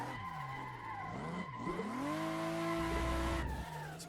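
A car drifts on a mountain road in the Assetto Corsa racing game with the handbrake pulled, giving a continuous loud tire squeal over a steady, rising engine drone.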